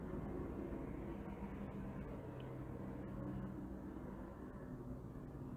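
A helicopter passes overhead outdoors as a low, continuous rumbling drone that holds steady and fairly loud for the whole stretch, with no talking.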